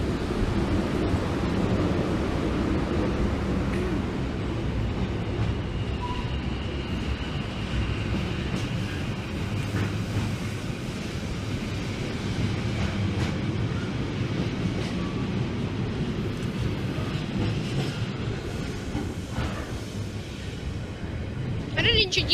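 A Freightliner Class 90 train passes at night with a steady loud rumble and rushing roar of rolling wagons close by, holding level throughout with faint squeals over it.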